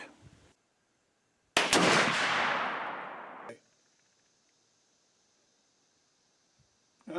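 A Winchester X-150 muzzleloader rifle fires a single loud shot outdoors, a sharp blast followed by a long decaying roar lasting about two seconds, then near silence.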